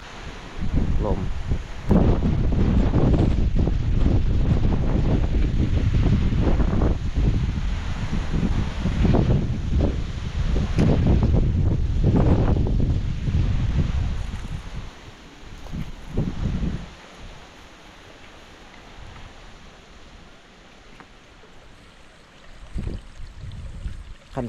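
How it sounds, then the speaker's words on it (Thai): Wind gusts roar into the microphone beside a small river in a forest, loud and rough at first, then easing into softer rustling with occasional renewed gusts. "ลม"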